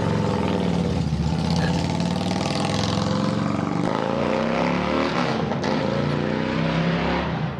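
A motorbike engine is out on the road in summer, a steady mid-pitched engine drone that swells as it draws near and fades as it goes by, loud and continuous throughout.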